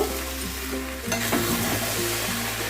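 Muri ghonto sizzles in a pan as garam masala is stirred through it, a loud, steady frying hiss with spatula scrapes and a sharper clatter just after the first second.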